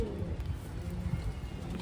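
Soft, low pigeon cooing close by, a steady murmuring burble with no other sounds over it.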